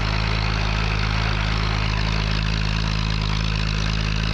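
A heavy 1949 Fordson P6 Major tractor engine drones steadily and loudly close by while climbing a hill, a constant low rumble with no pauses.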